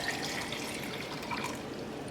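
Coconut water, one and a half cups, is poured with a steady, trickling liquid splash close by, continuous throughout.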